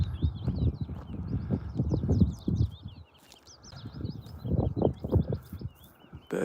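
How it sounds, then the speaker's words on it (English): Birds twitter in trees on top of the Wrekin, a continuous scatter of thin chirps and trills in the background, heard beneath steady rhythmic footsteps or hoofbeats crunching along a path. "Birds twittering"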